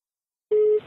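A telephone line tone sounds while a call is placed, one short steady electronic beep that starts abruptly after silence and stops just as cleanly.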